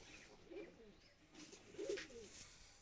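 A pair of old white domestic pigeons, a male and a female, coo softly in a home loft, with a few low, throaty calls at close range over a quiet background.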